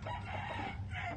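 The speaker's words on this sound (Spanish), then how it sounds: "Aquí en este otro traigo un gallo giro de los Clemens" A gamecock rooster crowing, a single brief call heard close and fairly loud over a steady low background hum.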